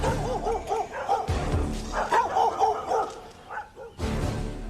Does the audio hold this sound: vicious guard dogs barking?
yes